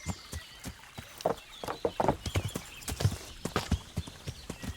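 Steady clip-clop of horse hooves in Kingdom Come: Deliverance, close and distinct, with an occasional faint snort between the rhythmic steps.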